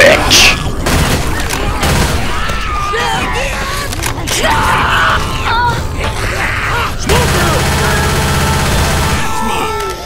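Gunfire in the zombie shooter video game Left 4 Dead during a versus match, rapid bursts and booms of shooting with mechanical clatter, loud and dense, mixed with players' voices talking and yelling.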